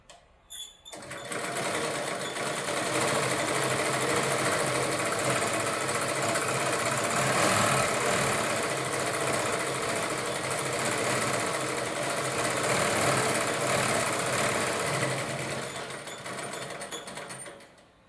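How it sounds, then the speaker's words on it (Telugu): An electric sewing machine runs steadily and close while stitching a palazzo pant seam, a continuous buzzing whir that starts abruptly and holds for most of the stretch before stopping. "పిస్తా వరకు నేను సీట్ వరకు స్టిచ్చింగ్ చేశాను."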